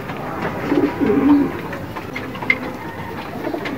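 Racing pigeons, including a Pakistani tiger grizzle, coo softly and steadily from close by, their low rolling calls repeating over a constant background hum with no talking.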